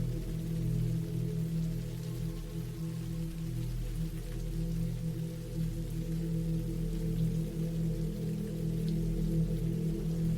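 Steady rain falling at night around an old cabin in the woods of northern Montana, a continuous even wash of drops with low rumbling undertones and no speech.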